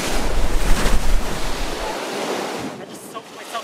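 Ocean surf crashing loudly near the shore with strong wind noise over the microphone, a sustained roar that eases after a couple of seconds into lighter splashing.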